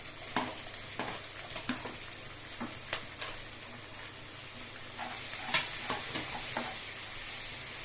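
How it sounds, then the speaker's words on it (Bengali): Chopped onion frying in a pan and being stirred, a steady soft sizzle beneath repeated sharp scraping clicks of the spoon against the pan, close and fairly even. "পেঁয়াজটা আমি 4-5 মিনিটের মতো ভেজে নেব"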